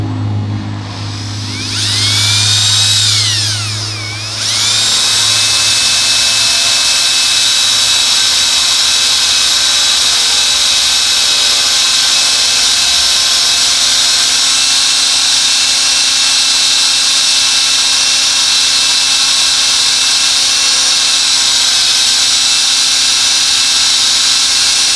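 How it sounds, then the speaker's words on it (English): A power drill bores into an explosion-proof security camera housing, a loud steady whine holding throughout with a brief rising pitch sweep early on, with no talk over it. "In your drill. I'm going to come down about 3 threads."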